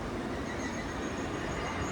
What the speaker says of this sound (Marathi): आता ट्रेन येते, पाहू शकता